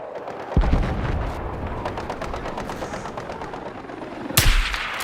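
Sniper rifle gunfire in the Battlefield video game: a loud sharp report opens, sustained rumbling battle noise follows, and a second powerful blast lands near the end, with no voices.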